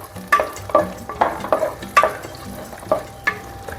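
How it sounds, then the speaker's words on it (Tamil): Small shallots fry in a clay pot for fish curry, with repeated rhythmic stirring scrapes roughly every half second over a soft background sizzle, close and without speech. "இப்போது வெங்காயம் போட்டிருக்கோம்."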